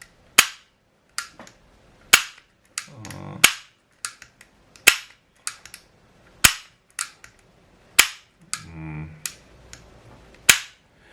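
A Hi-Capa airsoft pistol is test fired about ten times in a slow, uneven rhythm, each shot a sharp, close snap, with faint mechanical handling noises between some of them.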